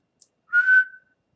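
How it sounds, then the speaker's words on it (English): A person whistles one short, steady note of about half a second after a tiny click, fairly soft and alone, with no talking. "I can kind of whistle."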